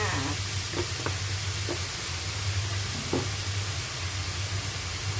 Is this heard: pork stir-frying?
yes